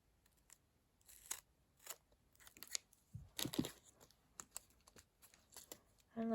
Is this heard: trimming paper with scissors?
yes